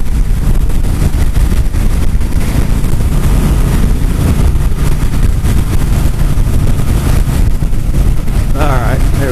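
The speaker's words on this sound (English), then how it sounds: "it's pretty windy out" Loud, steady wind roar buffets the microphone throughout, with a low engine rumble underneath, while riding at speed on a 2018 Harley-Davidson Street Bob motorcycle.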